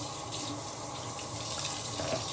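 Water runs steadily from a bathroom tap during shaving, a soft continuous hiss and splash at low level with no talk.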